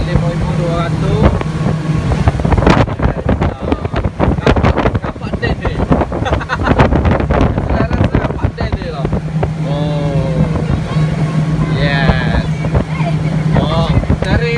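A speedboat with twin Mercury 250hp outboard engines roars steadily at top speed, its loud, continuous drone mixed with heavy wind buffeting against the microphone and brief, indistinct voices.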